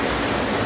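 Steady broadband roar of a waterfall at Choke Creek Falls, Pennsylvania, heard up close from a rock crevice beneath it, loud and constant without a break.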